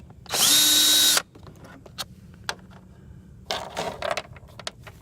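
A power drill whirs in one sharp, loud burst backing a screw out of a Champion generator housing, followed by scattered clicks and clatter of handling, then a second rougher rattling stretch of parts being worked.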